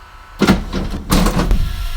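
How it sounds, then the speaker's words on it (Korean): An automatic door on a German bus closes with a pneumatic hiss and two mechanical thumps, loud and close, over steady engine rumble. "이렇게 문을 닫습니다."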